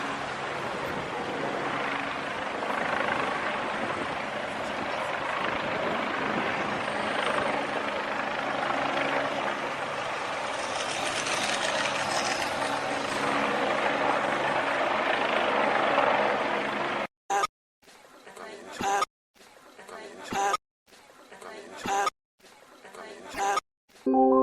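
A helicopter drones with a steady, loud roar for a long stretch before the sound breaks into choppy bursts separated by abrupt silences.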